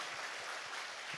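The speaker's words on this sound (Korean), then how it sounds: "박수 크게, 하여튼 박수는 크게 치고 끝까지 치고" Audience applause in a church prayer hall, a dense, steady wash of many hands clapping, faint and distant, continuing without a break.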